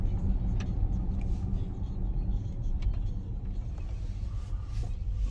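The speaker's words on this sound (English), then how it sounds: "it looks like a hell of a lot of cars here" Steady low rumble of many cars idling and creeping in heavy traffic, a continuous dense engine drone with occasional faint higher noises, no clear voices.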